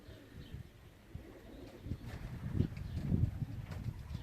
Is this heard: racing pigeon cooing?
yes